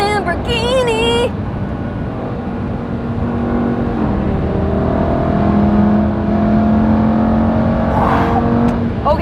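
A Lamborghini Gallardo Superleggera engine drones and revs from inside the cabin, loud and continuous with rising and falling pitch, while a voice speaks briefly at the start over the engine.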